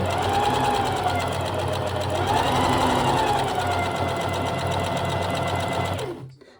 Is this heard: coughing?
no